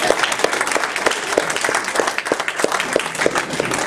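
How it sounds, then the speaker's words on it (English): Audience applause at a talk on ancient documents, steady, dense clapping from a room full of people that carries evenly through the whole stretch, with a few louder individual claps standing out near the listener. "Now you can clap."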